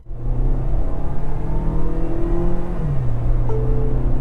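A Tata Safari's petrol engine drones from inside the cabin as it accelerates, a steady loud hum whose pitch climbs and then shifts with a gear change.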